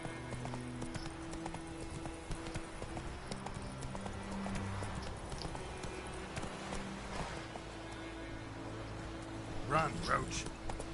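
Roach, Geralt's horse in The Witcher 3, gallops with rapid, continuous hoofbeats close by, a brief whinny-like burst near the end, and voices speaking over the running.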